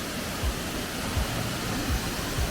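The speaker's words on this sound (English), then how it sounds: "let's check out the bigger waterfall itself." Steady broadband rush of falling water at Fairy Glen Falls, constant and fairly loud, with a few faint low thumps; no voices.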